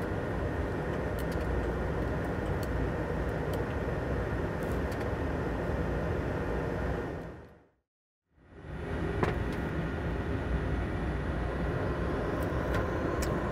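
A Cessna Citation Mustang's jet engines run at takeoff thrust, producing a steady, loud broadband roar inside the cockpit that cuts out briefly near the middle before resuming.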